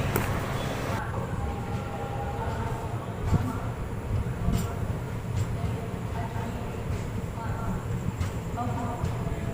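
The Sabarmati Express pulls out of Rewari Junction with a continuous low rumble of wheels on rails and periodic clicks of rail joints, a steady, close sound heard from on board.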